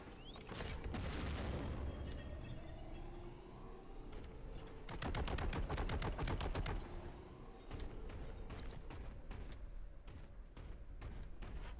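Heavy gunfire in the shooter Warhammer 40,000: Boltgun, with rapid bursts and booming impacts, a sustained fusillade in the middle and scattered shots continuing afterward, loud and up close.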